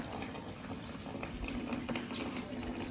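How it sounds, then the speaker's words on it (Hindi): Water splashes steadily onto garden plants during a hot-summer watering in a Pakistani village yard, a continuous close gushing and pattering with no talk. "भी थोड़ों को और दे रहे पौधों को पानी"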